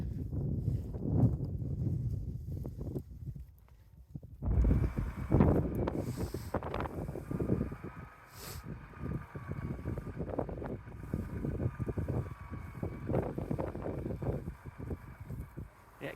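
Blizzard wind in December blows across open country in low, rumbling gusts, fairly faint and steady throughout, with a brief quieter lull partway through.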